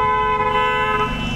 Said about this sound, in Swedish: Den som tutar lite.